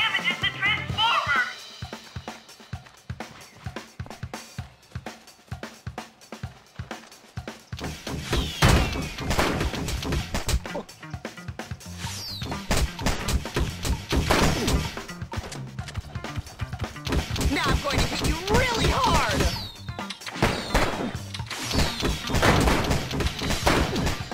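A spud turret firing potatoes in the Bully video game, with rapid repeated thumping launches and impacts that grow busier and louder midway, amid chaotic crashes and kids' voices.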